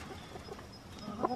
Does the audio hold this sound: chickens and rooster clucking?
yes